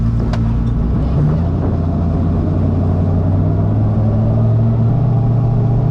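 A drag car with an SBE 5.3 engine on 275 radial tires launches on a pass, its engine a loud, steady, close roar with deep rumbling harmonics that holds for about six seconds.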